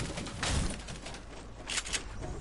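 A bird coos softly in a video game, two quiet muffled calls set apart against low ambient game sound.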